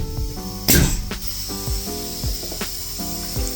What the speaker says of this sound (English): The machine work with the compressor and the electricity.